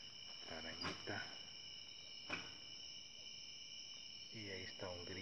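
A cricket chirping at night in an outdoor setting, a thin continuous high trill running the whole time, with brief soft voices speaking nearby at the start and end.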